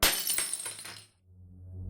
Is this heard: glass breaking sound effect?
yes